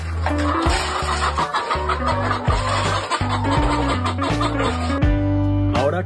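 Hens cluck and squawk loudly and close by while being fed, a busy overlapping chorus of rising calls and cackles with no pause.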